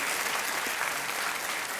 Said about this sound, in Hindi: तालियों के साथ हम आपका यहाँ पर स्वागत करते हैं